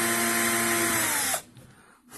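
Power drill boring into a small apple-wood box while fitting hardware, a close whining buzz for over a second that cuts off abruptly, leaving a faint quiet tail.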